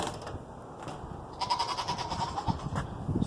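Goats bleat a few times at moderate distance over a low rumble of outdoor background noise.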